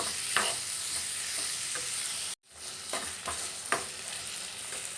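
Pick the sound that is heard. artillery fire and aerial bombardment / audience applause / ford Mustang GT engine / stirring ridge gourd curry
stirring ridge gourd curry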